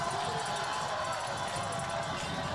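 A crowd at a high school football game, Shawnee Mission East at Mill Valley, keeps up a steady, dense roar of cheering and noise that fills the whole stretch with no breaks.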